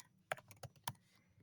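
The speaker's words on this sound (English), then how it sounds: "I'm just clicking enter to get to the next thing" Keys clatter on a computer keyboard, close and quiet: a handful of separate taps with one firmer press of the enter key, irregularly spaced, no talking.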